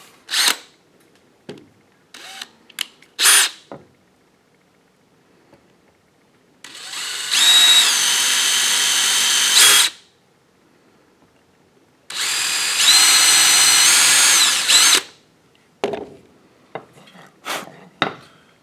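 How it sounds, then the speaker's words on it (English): A power drill whirs in two sustained bursts of a few seconds each while building a canjo, separated by quiet, with small clicks and handling knocks around them. "we need our drill."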